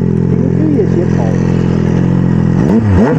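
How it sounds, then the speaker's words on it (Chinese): Benelli TNT899 three-cylinder motorcycle engine, loud and close, holding a throaty idle before the revs climb sharply in quick blips near the end. "转速爬升的非常快"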